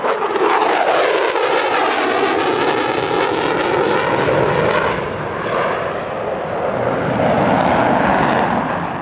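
An F-35 fighter jet pulls a sustained turn at the Dubai Airshow, a loud, close jet roar whose pitch sweeps in wavering bands, rising then easing as it passes, with a fading rush at the end.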